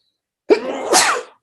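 A single sharp sneeze at a town council meeting bursts out close and loud, then trails off over about a second, with no talk around it.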